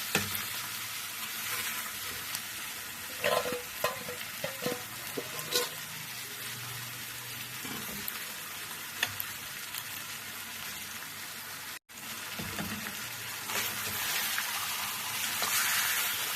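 Kadai chicken fries in oil with a constant dense sizzle, broken by occasional stirring scrapes and clinks, heard close throughout.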